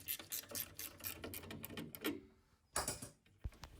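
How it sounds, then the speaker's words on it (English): A ratchet undoes a 13mm nut on a Worcester Bosch boiler, giving quick close-up runs of rapid clicking with short pauses and a few sharper clacks near the end. "Wearer ratchet to undo the nut at the top"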